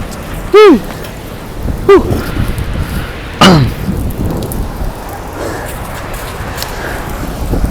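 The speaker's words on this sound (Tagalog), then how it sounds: "Mapatak na naman ang ulan sa bubong ng bahay." Heavy rain pours steadily onto a house roof outdoors, a dense continuous hiss, broken by a few sharp nearby bursts early on.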